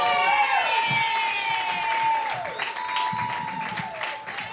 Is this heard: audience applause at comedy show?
yes